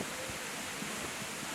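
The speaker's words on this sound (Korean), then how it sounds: "폭우가 쏟아지는 것 같은 엄청난 물보라에 우위는 필수다" A waterfall in Iceland throws dense spray, heard as a steady, loud roar of rushing water and hiss like a heavy downpour, with no pauses.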